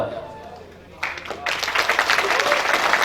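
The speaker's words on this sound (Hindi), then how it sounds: "अगर आप ताली नहीं बजाते ना तो मैं इस पंक्ति को बार बार बोलता रहता है" At a kavi sammelan poetry recital, a poet's voice trails off and the audience bursts into applause around the midpoint, the clapping growing fuller and louder and continuing to the end.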